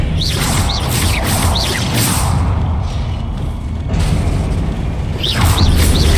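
Confringo blasting spell from the Hogwarts Legacy video game detonating in a deep booming explosion with rumbling low-end, whooshing spell effects and crashing debris over continuous game noise.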